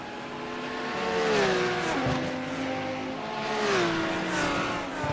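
A race car in a sim racing game at Zolder slides one way and then the other across the gravel, tires squealing in long wavering tones over a steady engine drone, with two swelling passes.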